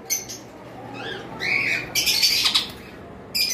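Cockatiels and lovebirds in a bird shop give several loud, harsh squawks and screeches in short bursts, close by, with no talking.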